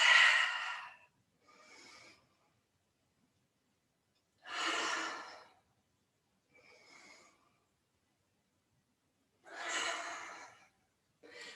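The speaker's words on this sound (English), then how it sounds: "Inhale and exhale. Moving with the breath." Deep yoga breaths come up close and loud, three strong rushing exhales, each followed by a softer, shorter breath, with long quiet gaps in between.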